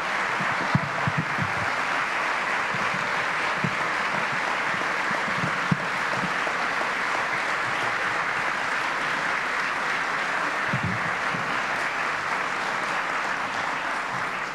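Steady, sustained applause from a large crowd at an academic year opening ceremony, clapping continuously at an even loudness for the whole stretch.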